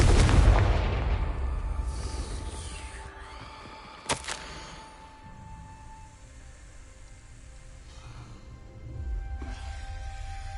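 In Hogwarts Legacy, a Confringo fire spell bursts with a heavy boom at the start, a sharp crack a few seconds later and a fading rumbling tail, with a softer thud near the end.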